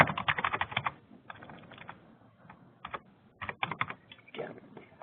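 Fast bursts of keystrokes on a computer keyboard, clicking in quick runs broken by short pauses, close and clear with no voices over them.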